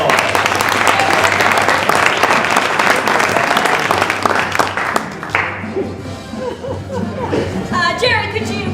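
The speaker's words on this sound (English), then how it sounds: "Give yourselves a round of applause." Applause from a live audience at a political comedy show, a dense, loud burst of clapping with some chatter that gives way midway to crowd murmur and background music.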